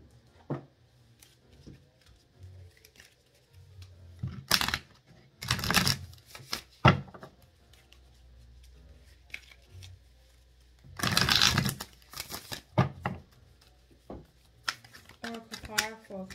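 Oracle cards being shuffled during a tarot reading, several short papery riffling bursts spread unevenly across the stretch, quiet and close, with soft handling noises in between.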